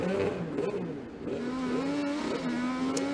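IndyCar race car idling on pit road with a sustained engine drone and a few light throttle blips, close and steady with no speech.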